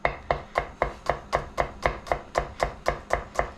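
Knife slicing thin rounds of garlic cloves on a cutting board for oyster sauce and butter noodles, a steady run of about twelve crisp, evenly spaced chops, close and clear with no talking.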